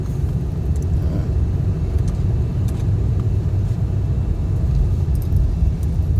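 A truck on new tires drives over a snowy road in Yakima, Washington, giving a steady, continuous low rumble of road and engine noise from inside the cab, with no talking.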